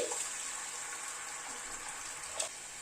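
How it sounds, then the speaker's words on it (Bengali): Hot water is poured into spice masala cooking in a pan on a gas flame, a soft, steady watery hiss and gentle bubbling that stays fairly quiet, with no talk. "এবার গরম জল দিয়ে দিচ্ছি।"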